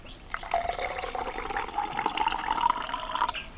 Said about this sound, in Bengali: ঠান্ডা জল দিয়ে দিচ্ছি